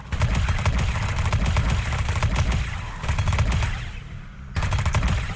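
Rapid SMG fire in the Fortnite video game, loud sustained automatic bursts with a brief lull before a final burst.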